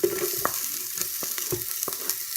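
Roughly chopped Indian onions sauté in coconut oil in a pan for carrot and ginger soup, giving a dense steady sizzle with a few quick stirring taps nearby and no speech.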